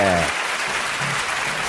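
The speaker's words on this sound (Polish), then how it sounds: "Ogromne brawa, kochani." Applause from a crowd at a 2009 reggae concert, right after the act is announced: a steady wash of clapping that carries on through the whole short moment, with a brief trace of a voice at the very start.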